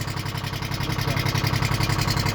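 A Treefarmer skidder engine idling close by, a low rumbling drone with a regular pulsing exhaust throb and no voices.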